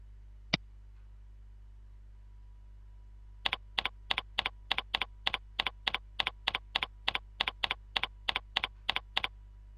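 Keystrokes on a computer keyboard as an email address is typed into a mail client: one isolated tap, a pause, then a steady run of about twenty evenly spaced, crisp clicks, close and fairly loud over a quiet background hum.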